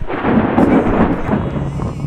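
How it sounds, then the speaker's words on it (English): Rumbling thunderstorm ambience in a riding adventure video game, a steady loud roll of thunder with rain-like wash filling the short stretch without pause. "I don't like riding through thunderstorms, as there is nowhere to take shelter."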